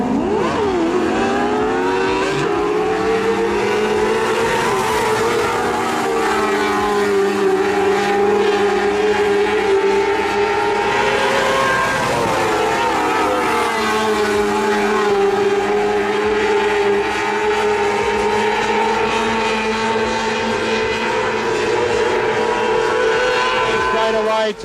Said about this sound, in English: Down the back straight away, Jeff Phillips has a little look around the outside, and it's the big outside pass from the 33 car